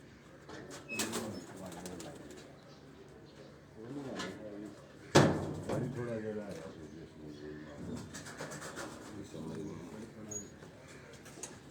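Pigeons coo repeatedly in low, throaty bursts as they are stamped, with people talking nearby and a brief sharp knock partway through.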